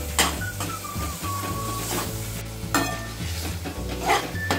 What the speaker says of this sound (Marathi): अद्रक लसूण पेस्ट टाकून घ्यायची। तेही चांगली भाजून घ्यायची।